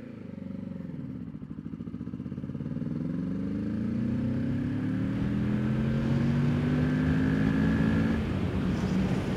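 A 2023 Kawasaki Ninja 650 KRT ABS motorcycle on a winter ride, its engine note climbing steadily as it accelerates through the gears, loud and close with continuous wind and road noise.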